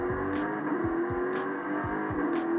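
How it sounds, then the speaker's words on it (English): Continuous engine drone of a car driven around in a game on an Asus G15 Advantage Edition gaming laptop, steady and fairly loud, with recurring low revving sweeps and no talk. "I'll do some driving around real quick"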